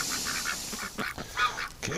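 Ducks out in winter give a run of nasal quacks and honks in quick succession, close by and fairly loud.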